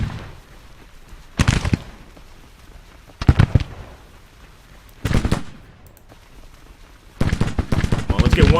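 Musket volleys in the Civil War strategy game Grand Tactician: The Civil War, four loud rolling bursts of gunfire spaced about two seconds apart, the last one longer and sustained.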